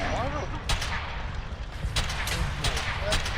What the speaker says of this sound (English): Why were those turrets shooting at me?